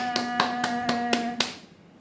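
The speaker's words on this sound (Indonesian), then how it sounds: "Tepuk tangan untuk Irma." Clapping for a student in a classroom, six evenly spaced sharp claps in quick rhythm over a steady tonal hum, then fading to quiet.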